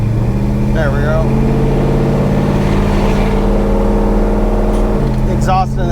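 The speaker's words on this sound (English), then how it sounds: "The exhaust in this thing is annoying. It's got a Flowmaster 2-chamber in it with no glass backs, no resonators." A 1966 Ford Galaxie with a 7-litre 428 V8 and a Flowmaster two-chamber exhaust without resonators drones deeply while driving, a steady rumbling note heard from the cabin that shifts pitch near the end as the car changes gear.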